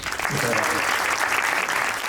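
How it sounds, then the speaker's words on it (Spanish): Audience applause after a film discussion panel, a dense, loud wash of clapping that fills the whole short stretch without pause. "Un aplauso."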